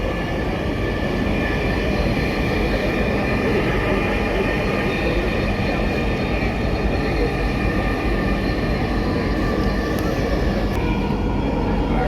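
A metro train runs steadily with a dense, continuous rumble and rattling roar heard from inside the carriage, loud and unbroken, with a faint tonal hum above it and no talk.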